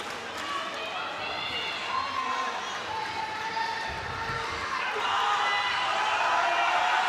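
A roller derby crowd at a world cup bout in Barcelona keeps up a steady, distant wash of cheering and chatter that swells slightly near the end, with an announcer talking over it.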